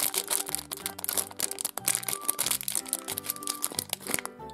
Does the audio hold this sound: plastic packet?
yes